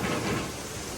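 Heavy village rain pours down in a dense, loud wash with a deep rumble of thunder underneath, a short, steady burst with no voices.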